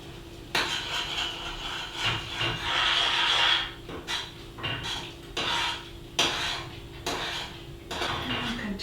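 Elderberry jam with pectin being stirred in a pot on the boil, a spoon scraping and clinking against the pot in repeated close strokes of varying length.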